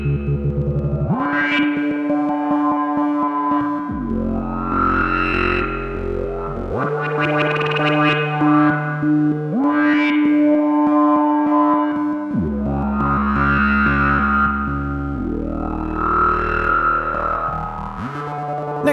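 A 1975 Roland SH-5 two-oscillator monosynth plays a sequence of sustained, buzzy notes with shifting, sweeping harmonics and modulated textures. Each tone changes pitch every few seconds in a loose rhythm, loud and alone, with no voices.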